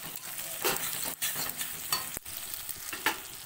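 Onion, ginger and chilli paste sauté in a pan. A soft, steady sizzle runs under repeated scraping strokes of a spatula, with a couple of brief sharp clacks; no talking.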